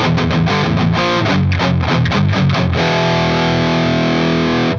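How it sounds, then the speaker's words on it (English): Palm-muted power chords on a heavily distorted electric guitar in a metal tone, a run of tight chugging hits followed by a sustained ringing chord, loud and alone. "So if you took the side of your hand and laid it right across where the bridge meets the strings, you'll get this tighter sound as you play chords"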